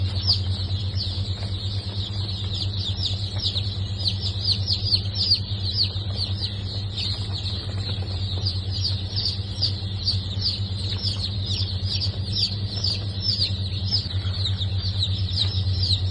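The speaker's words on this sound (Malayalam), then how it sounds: "ഇതെല്ലാം തനി നാടൻ കോഴിക്കുഞ്ഞുങ്ങളാണ്." Native chicken chicks chirp constantly on hatching day, with many rapid, high peeps overlapping close by over a steady low hum.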